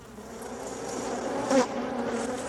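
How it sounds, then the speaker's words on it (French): Honeybees buzz steadily while gathering pollen from flowering trees in a Mediterranean setting, a close, continuous drone that swells briefly louder midway as one passes near. "chaque abeille vient butiner la fleur"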